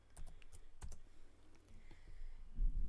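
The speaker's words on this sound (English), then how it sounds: "typing." Typing on a computer keyboard, with a quick run of close, sharp key clicks followed by quieter scattered taps over low room noise.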